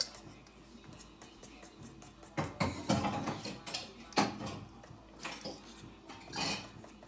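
A dish is set into a kitchen sink while fried Oreos are being made, giving several clattering knocks of crockery at close range, with quieter kitchen shuffling between them.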